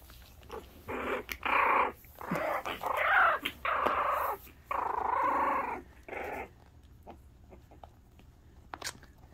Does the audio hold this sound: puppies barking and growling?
yes